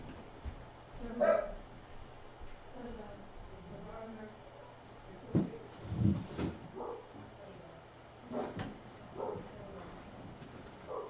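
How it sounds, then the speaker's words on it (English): Dogs bark in a backyard, a neighbor's dog joining in, with several short bursts scattered over low background noise and brief speech nearby. "now the neighbor's dog is going nuts as well"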